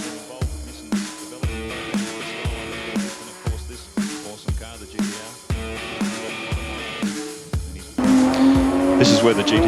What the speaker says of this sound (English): this is where the GTR is so fast coming out of this corner of the cutting.